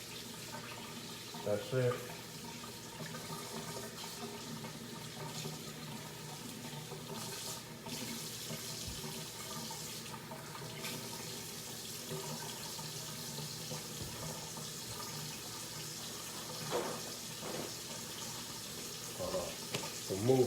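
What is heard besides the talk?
tap water rinsing oxtails in sink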